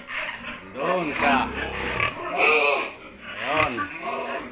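Pigs in a farm piggery grunt and oink in repeated bursts, fairly close and loud, mixed with people talking nearby.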